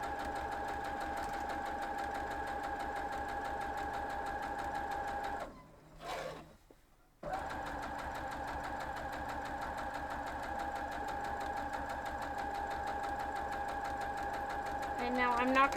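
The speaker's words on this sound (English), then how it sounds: "I'm sewing just a hair on the inside that's towards the middle" A sewing machine stitching a half square triangle for a dog quilt, a steady close mechanical whir that stops for about two seconds, then resumes evenly; someone talks over it.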